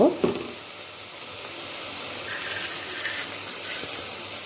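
Cassava and mango curry sizzling and frying in a pan as salt, chili powder and turmeric are added, a steady close hiss with light stirring and no talk.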